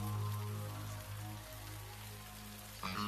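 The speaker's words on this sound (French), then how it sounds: "on dirait qu'il pleut de plus en plus" Rain falls steadily, a dense, quiet hiss of drops on surfaces that continues evenly throughout, with no voices.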